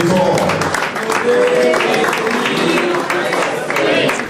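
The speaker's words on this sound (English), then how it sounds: "The round of applause for him, please" An audience at a CEIL 2024 debate event gives a round of applause as a participant comes forward, a loud continuous patter of clapping with voices mixed in underneath.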